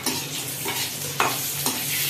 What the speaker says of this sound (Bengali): এবার আমি কিশমিশ আর কাজু বাদাম ভেজে নেবো